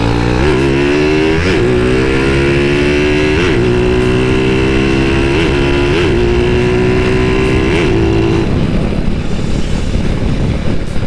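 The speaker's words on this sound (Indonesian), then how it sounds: "Dengan suara knalpotnya yang halus dan gahar" Motorcycle exhausts revving at a Galungan 2024 group ride. The engines are loud and close, with repeated throttle blips that rise in pitch, then settle into a steady drone as the bikes roll by.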